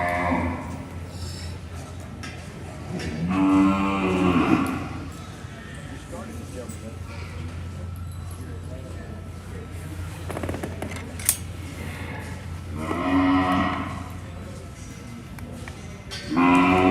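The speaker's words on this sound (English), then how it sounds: "we've got a whole lot of cattle in this arena" Cattle in a show arena moo in long, loud, drawn-out calls over a steady hum of the hall, while an announcer talks between the moos.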